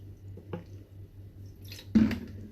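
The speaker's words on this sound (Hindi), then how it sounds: "और अब इसमें ऐड कर दूंगी ठंडा पानी।" Cold water poured into a glass of lemon tea packed with lots of ice gives a single short splash and slosh near the end of an otherwise quiet stretch.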